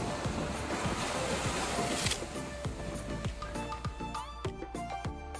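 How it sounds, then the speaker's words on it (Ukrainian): Rough, restless ocean surf on an Outer Banks beach in windy, cold weather, a broad continuous wash of breaking waves with wind noise, steady and fairly loud with no voices. "Сьогодні погода вітряна і океан дуже неспокійний"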